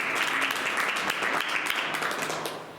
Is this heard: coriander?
no